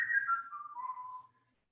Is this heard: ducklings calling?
no